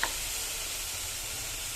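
Steady, loud hiss of crushed garlic, shallots and green chillies sizzling in hot oil inside a pressure cooker, continuous and close with no talk.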